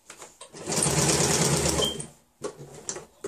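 A sewing machine sewing fabric runs in a steady, fast stitching burst of about a second and a half, stops, then gives a few short stitch bursts while turning a corner.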